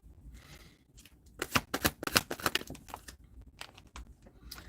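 A deck of playing cards shuffled in several quick riffling bursts, close and crisp, with short rustling pauses between, alone without talk.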